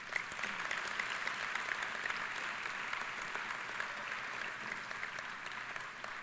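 An audience at a legislative forum applauds the participating legislators, a steady, dense wash of clapping from many hands that holds evenly throughout without voices.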